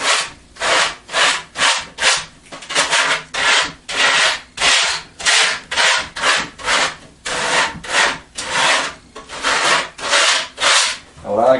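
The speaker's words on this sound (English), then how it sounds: "So we're going to go ahead and scratch it up a little bit." A rasp scratches the surface of a whitetail deer taxidermy mannequin in a shop, about two dozen loud, rhythmic back-and-forth rasping strokes that are close and steady, with no talk.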